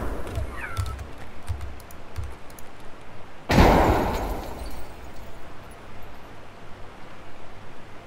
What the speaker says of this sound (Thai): ปาระเบิดมา